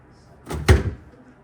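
Full-sized refrigerator door in a villa kitchen opening with a single soft thud and seal release, close and brief, no talk over it.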